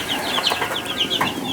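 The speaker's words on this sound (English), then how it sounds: "we have our little meat chick babies" A brooder of baby meat chicks, a hundred of them, fills the space with a steady chorus of high, overlapping peeps and chirps at close range, with no talking.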